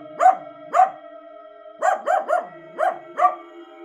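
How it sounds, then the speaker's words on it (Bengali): A dog barks in a cartoon ghost story scene: seven sharp, close barks, two spaced apart, then a quick cluster of three, then two more, with no one talking. "একটি কুকুর ঘেউ ঘেউ করতে লাগলো"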